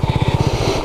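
A Honda CB250RS motorcycle on a green lane, its single-cylinder engine thudding in a fast even pulse, close and loud for a brief moment.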